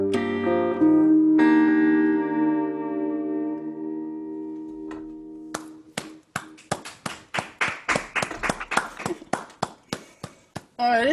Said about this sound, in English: It's so nice to hear clapping.